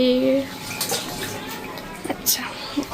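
Hands being washed under running tap water in a home kitchen, a steady broadband splash with a few brief drips and clinks, with a short burst of voice at the start.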